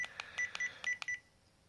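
A Mel Meter Mel-8704 REM pod alarm chirps in a quick series of about six sharp, close electronic beeps, then falls silent.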